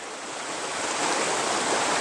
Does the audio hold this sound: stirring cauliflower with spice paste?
no